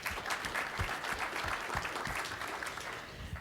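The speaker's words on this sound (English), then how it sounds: "So another round of applause for all our sponsors as well." Conference audience giving a round of applause for event sponsors, a dense, even wash of many hands clapping continuously at a moderate distance.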